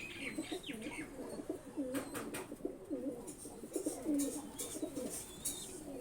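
A high flying pigeon coos close by in repeated soft, throaty phrases, with a few faint clicks and rustles around it.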